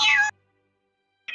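A cat in a video game gives two meows: a clear, loud one, then a shorter, softer one after a pause of about a second.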